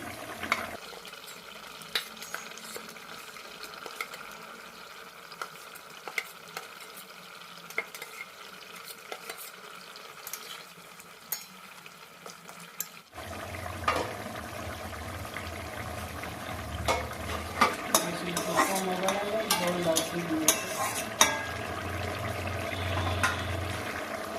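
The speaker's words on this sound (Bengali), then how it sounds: "এখন এর মধ্যে জিওল মাছগুলো দিয়ে দিচ্ছি।" Jiol fish (stinging catfish) sizzle in a pan of hot oil and spices while being stirred. Soft scraping and clinking come first, then the frying grows louder and busier.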